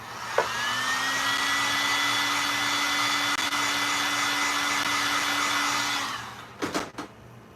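A hair dryer runs steadily for about six seconds, drying acrylic paint on a canvas, with a constant whining hum, then switches off, followed by a few brief handling knocks.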